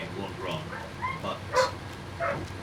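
Dogs bark outside and come in through an open window: several faint, distant yips and barks scattered under someone talking nearby.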